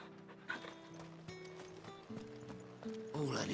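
In Final Fantasy XVI gameplay, a dog pants softly in quick, steady breaths, low in level beneath game music and ambient sounds.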